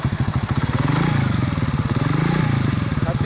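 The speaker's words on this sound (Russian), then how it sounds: "Байк завелся." A 13-year-old Delta moped, just started in winter, runs with a rapid, even putter that stays loud and close throughout, steady with slight swells in speed.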